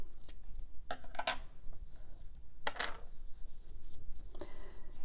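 Scissors snip through crochet yarn a few times in quick, close strokes, each cut a short crisp rasp against a faint room hush with no talking.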